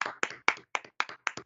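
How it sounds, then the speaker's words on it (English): Six sharp, evenly spaced claps ring out in a quick burst, sounding like a small group or a single pair of hands applauding to welcome an interview guest. "Round of applause for Lukas Windel."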